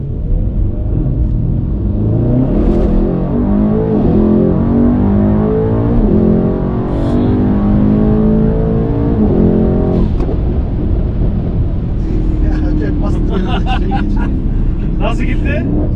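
A Mercedes-AMG E63 S W213 sedan with a stage 2+ tune and exhaust, in sport mode on a cold, rainy road, pulls hard at full throttle, its deep roaring exhaust rising and falling steadily throughout while voices talk over it.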